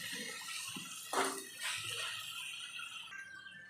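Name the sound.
pouring water onto frying tomatoes in a pan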